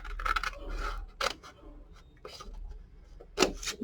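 Scissors snip through paper card while mitering the edges of a purse card folio pocket, a few crisp close cuts and rustling paper in a quiet room.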